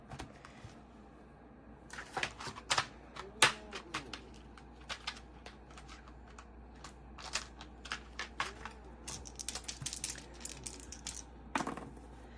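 Small dice rolled and clattering onto a surface in a quiet room, a scattered run of sharp little clicks and taps in uneven bursts, close by and moderately loud.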